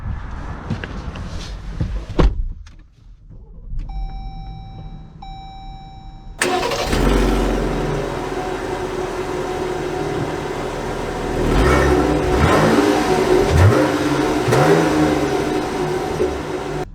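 A 2022 Jeep Grand Cherokee L Limited cranks and fires, then settles into a steady idle and revs up, close and loud with no talk; a brief chime sounds just before the engine catches.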